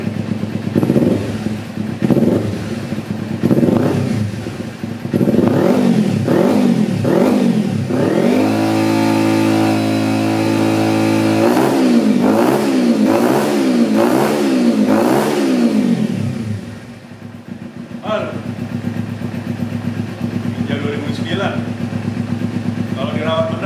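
A Kawasaki Ninja 250 R motorcycle engine is revved repeatedly, loud and close, in rising and falling wails with a sustained high hold in the middle before it drops back to idle. Speech is heard around it.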